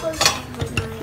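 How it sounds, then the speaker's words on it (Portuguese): Mashed potato purée being stirred in a pot on a home stove, with a few quick scraping and clinking strokes of the spoon against the pan, close and brief. "E vou mexendo."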